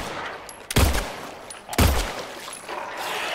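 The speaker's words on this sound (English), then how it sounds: "Are those shots not connecting?" Two loud, separate gunshots go off about a second apart in the Silent Hill 2 video game, each a sharp blast over a quiet, hissing background.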